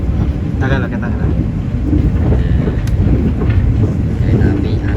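A heavy, continuous rumble of the Argo Dwi Bangga passenger train rolling past near Solo Balapan station in Indonesia, loud and close, with rattling and clanking throughout and a voice briefly audible over it.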